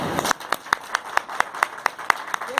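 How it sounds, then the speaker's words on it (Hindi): An audience at a speech on storage and pension plans claps for a small group being honoured: about a dozen sharp, evenly spaced claps ring out over a brief burst of mixed clapping, fairly near and moderately loud. "इनका हौसला अफजाई करने के लिए एक जोरदार ताली और बजाएं"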